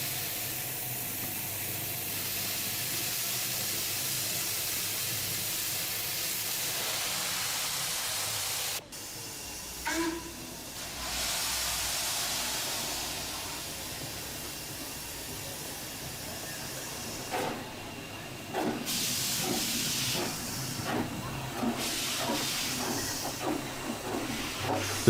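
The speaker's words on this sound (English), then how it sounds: "Reunited with its tender and now in steam, the WD backs out to find its train." A WD steam locomotive, in steam and reunited with its tender, lets off a steady loud hiss of steam as it backs out, with clanks and rail sounds breaking through the later part.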